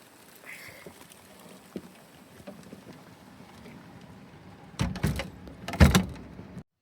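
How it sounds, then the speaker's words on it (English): A door shut against rain at a lakeside camp, two loud bangs close together near the end after quiet rainy ambience. "Close my door because it's getting wet."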